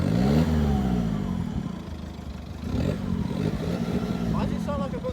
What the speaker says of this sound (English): Why does it sound like I've got no exhaust?